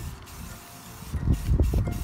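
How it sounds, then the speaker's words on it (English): Spray paint hissing from an aerosol can onto a painting outdoors in a windy spot, a steady close spray that grows louder in short pulses near the end. "So I'm just going to spray."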